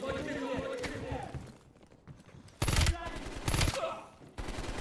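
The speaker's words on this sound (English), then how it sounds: "It's the triple shot pistol." Bursts of triple-shot pistol fire in Black Ops Cold War ring out in two loud, sharp clusters amid ongoing game noise, with people talking over the action.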